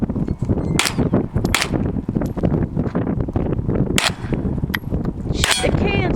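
Repeated gunshots from a Hi-Point 995 carbine fired at an outdoor range, several sharp cracks spaced irregularly over a few seconds amid wind and background noise.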